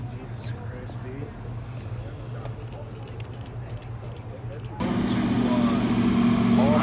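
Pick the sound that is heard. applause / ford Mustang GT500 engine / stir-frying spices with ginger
ford Mustang GT500 engine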